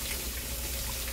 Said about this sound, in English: You're really not supposed to rinse mushrooms, but we're going to rinse ours.